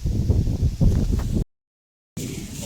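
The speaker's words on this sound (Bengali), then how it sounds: "খুব জোরে এখানে হাওয়া হচ্ছে" Strong wind in an open field buffets the microphone with a loud, low rumble that gusts unevenly, cuts out for a moment, then returns.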